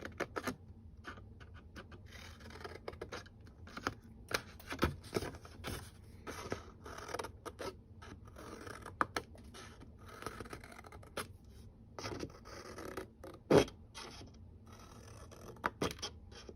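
Scissors cut the corners of a square piece of cardboard, giving quiet, close snips and scratchy scraping in an irregular rhythm with soft handling noises.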